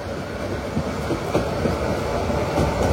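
The Mohanagar Godhuli Express, heard from aboard as it enters Tongi Junction station, gives off a continuous low rumble and rhythmic wheel clatter at moderate level.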